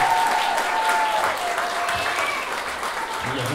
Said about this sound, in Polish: jeszcze raz wielkie brawa dla pary